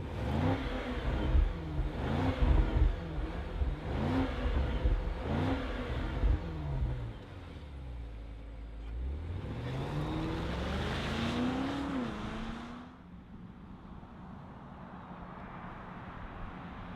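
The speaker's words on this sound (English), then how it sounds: "We got a V8. Let's fire it up and hear what it sounds like." V8 engine of a 2025 Range Rover Sport Autobiography starting and revving, several sharp throttle blips rising and falling, then a longer sweeping rev that settles into a low steady idle.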